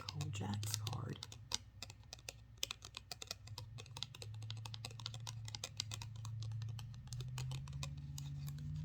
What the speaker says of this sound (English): I forgot to tap on the Cold Jacks card